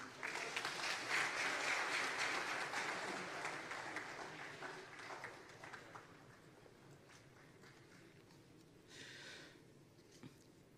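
Audience applause after a speech at a regional consultative dialogue on small-scale mining, strongest at the start and gradually dying away into sparse, faint claps over ten seconds.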